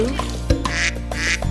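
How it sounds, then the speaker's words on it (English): A cartoon duck quacks repeatedly in a children's nursery-rhyme song, several clear, close quacks in an uneven rhythm over a steady musical backing with a sung voice. "Mother duck said quack, quack, quack, quack"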